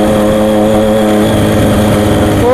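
A motorcycle engine with no silencer fitted idles loud and close, a raw, throbbing roar with a steady harmonic drone that rises slightly at the end.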